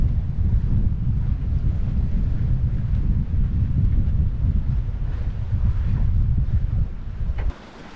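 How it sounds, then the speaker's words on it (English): Strong wind buffeting the microphone while sailing a boat in 18 knots of wind, a loud continuous low roar with water rushing beneath, dropping away abruptly near the end. "18 knots of wind to take us up to the anchorage"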